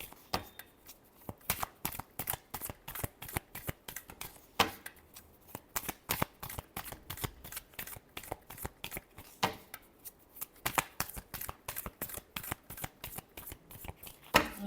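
Tarot cards shuffled by hand during a reading, a long steady stream of rapid, crisp card slaps and riffles with brief pauses between bursts, close and clear with no talking.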